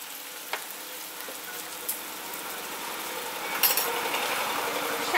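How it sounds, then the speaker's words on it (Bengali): Ground coriander, Kashmiri red chili powder, turmeric and salt sautéing in a pan for a Bengali cauliflower malai curry, a soft steady sizzle with occasional spoon taps and scrapes, fairly quiet and without talk. "এখন মশলাটাকে একটু আমি ভালো করে কষিয়ে নিচ্ছি।"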